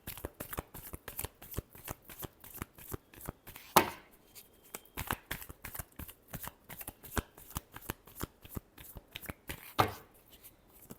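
Tarot cards are shuffled rapidly in a quick, steady riffle of crisp slaps and flicks, close up and fairly loud, with no voice over them.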